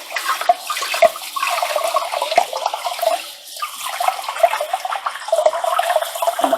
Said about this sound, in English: if I tip it to the side, it'll